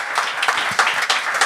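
A brief burst of studio audience applause for a contestant on a French-language talent show, close and fairly loud clapping with distinct hand strikes over a second and a half.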